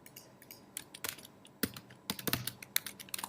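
Keystrokes tapped on a computer keyboard, coming in irregular clusters of quick clicks with short pauses between bursts, fairly close and alone without any talking.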